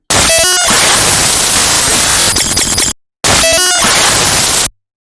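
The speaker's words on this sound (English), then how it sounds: "make a glitch sound with this" Digital glitch effect built in Audacity, a loud harsh burst of static and stuttering distorted noise with buzzy tonal fragments, cut off abruptly, then repeated after a short silence.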